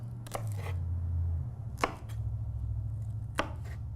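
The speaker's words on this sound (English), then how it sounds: "Just cut the top off our green onions." Green onions chopped roughly with a knife on a cutting board, three sharp, close knocks spaced well apart over a steady low hum.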